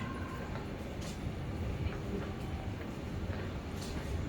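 Steady low rumble of a subway train moving through an underground station in Nagoya, with faint metallic squeals and brief hissing bursts, no talking.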